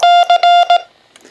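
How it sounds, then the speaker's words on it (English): Loud key beeps from a Xiegu X5105 radio transceiver: a quick string of sharp, clear electronic tones, some short and one held longer, then a few faint clicks afterward. "So we're going to save that beep volume"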